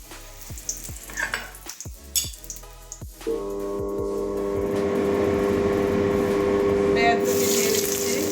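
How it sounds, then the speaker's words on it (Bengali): A kitchen chimney exhaust fan hums steadily with a low drone, coming on partway through after some clattering and light frying sounds and running continuously near the cooking, with faint speech in the background. "চিমনিটা চালিয়েছি"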